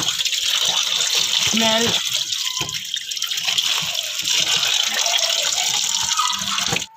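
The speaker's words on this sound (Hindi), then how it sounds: "पहले अरवी धो के रख देती हूँ" Taro root being washed under running tap water in a home kitchen, a steady close gush of water with some splashing and handling, while someone talks over it.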